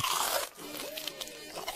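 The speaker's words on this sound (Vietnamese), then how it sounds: "Một miếng cắn vào, vỏ giòn rơi ra rào rào." Biting into a freshly fried, crispy chicken drumstick gives a close, crisp crunch followed by brief crackling of the breaking crust.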